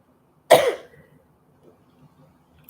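A single harsh cough from a person with Covid bursts out close by, then fades into near silence with faint rustling and a small sound at the very end.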